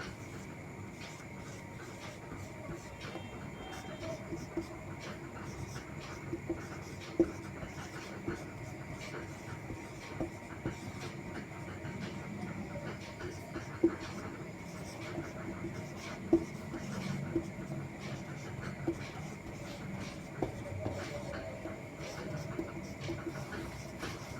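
Marker or chalk writing on a board in a classroom-style lesson, a faint continuous scratching with occasional taps, set against a quiet room hum with little else.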